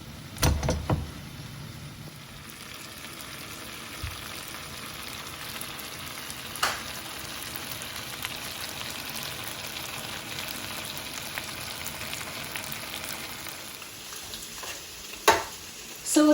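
Gravy base simmering in a pan on low heat: a steady, soft frying sizzle runs throughout, with a few light clicks and knocks near the start and again near the end.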